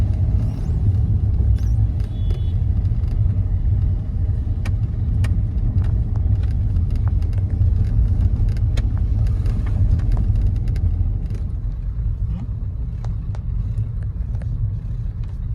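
A vehicle approaching on a misty mountain road near Munnar in winter, a low steady engine rumble that stays loud and continuous for several seconds, easing slightly toward the end, with no talk.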